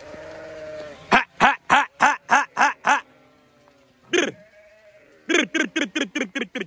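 Sheep bleat in two quick bursts of rapid, repeated calls, with one lone bleat between them, loud and close against a quiet background.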